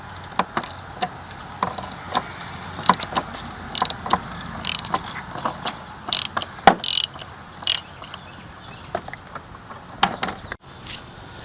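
A socket ratchet on an extension works a 36 bolt loose, turning counterclockwise, during an oil change on a 2021 RT Limited motorcycle. Close, sharp clicking comes in irregular bursts with short pauses between strokes.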